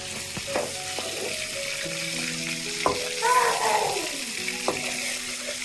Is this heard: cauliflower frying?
yes